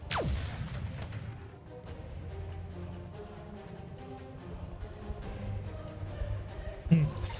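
A Hawkmoth mech fires its gauss rifle in a MechWarrior video game, with sharp, booming discharges at the start and again near the end over a low mechanical hum.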